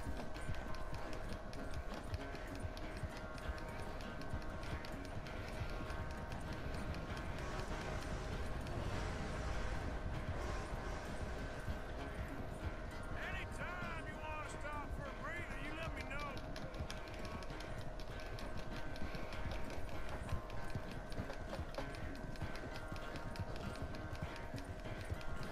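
A horse gallops in Red Dead Redemption 2, its hoofbeats thudding steadily under game music and a player talking throughout.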